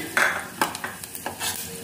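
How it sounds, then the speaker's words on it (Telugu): Wood apple pulp frying in a pan, a close, crackling sizzle broken by quick spatula scrapes and stirring clicks, no talking. "ఇప్పుడు ఎలగపండు గుజ్జు ఒక్క నిమిషం ఫ్రై చేసుకున్నాం"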